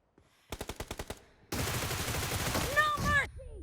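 Gunfire in PUBG Mobile: a rapid burst of about eight evenly spaced shots, then a loud sustained stretch of automatic fire and game noise with rising whooshing tones near the end.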